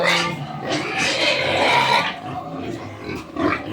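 A large boar pig grunts and snorts close by in a pen, with rough continuous grunting throughout and a voice faintly present in places.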